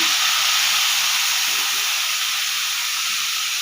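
Steady, loud sizzling hiss of chopped tomatoes frying in a hot pan, continuous and unbroken with no voices.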